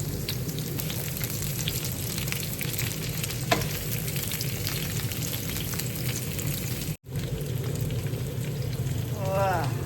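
Chopped onion frying and caramelizing in a pan, a steady close sizzle that runs unbroken, with a short cutoff near the end and a brief voice.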